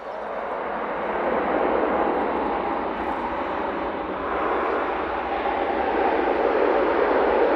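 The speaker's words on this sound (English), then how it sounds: "Beautiful Gulf Air 787-9 Dreamliner." A Gulf Air Boeing 787-9 Dreamliner rolling out after touchdown at Manchester Airport, a steady broad engine roar at moderate distance that holds even throughout, with no talk over it.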